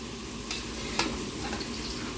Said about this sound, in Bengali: আলু ভাজা চলছে